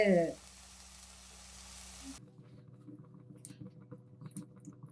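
Almonds and cashews drop into hot ghee for a raw papaya halwa and crackle softly, a faint steady sizzle with scattered small pops after a brief louder burst at the start.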